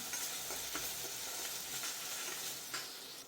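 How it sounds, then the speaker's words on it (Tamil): Chicken frying in a pan with ginger garlic paste for pepper chicken, a steady close sizzle with occasional scraping stirs of a spoon against the pan throughout, no voices. "இஞ்சி பூண்டுக்கு அந்த பச்சை ஸ்மெல் போகிற வரைக்கும் நல்லா ஃப்ரை பண்ணுவோம்."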